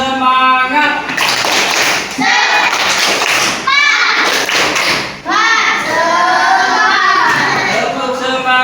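Classroom of children doing a rhythmic spirit clap, sharp patterned claps in quick groups mixed with chanting voices, close and loud.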